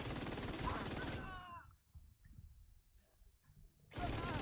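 Light machine gun fire in The Division 2 video game: a dense, loud burst of rapid shots lasting about a second, a quiet gap with faint clicks and rumble, then another sustained burst starting abruptly near the end.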